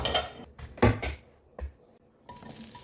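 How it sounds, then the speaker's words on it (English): A metal pan clatters back onto a kitchen stove during cooking, several short knocks and scrapes up close, with a quiet background hiss. "Put the pan back on the heat."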